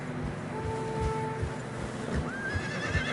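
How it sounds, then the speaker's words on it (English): Horses in deep snow in the Red Dead Redemption 2 video game whinny with drawn-out tonal calls over muffled hoof thuds, fairly close, with no talking. "Horses are struggling."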